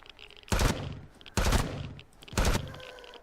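Gunfire in a survival-crafting video game, three separate loud bursts of shots about a second apart, each ending quickly, close and without voices.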